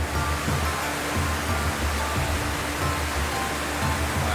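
Mineral Creek Falls in a Washington rainforest, a steady loud roaring wash of falling water, constant and unbroken throughout with no voices.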